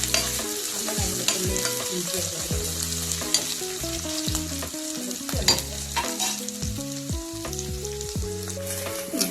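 Garlic sizzling in hot oil in a pan for a Kerala-style snakehead fish curry, a steady close crackle and hiss with a spoon stirring and scraping at intervals.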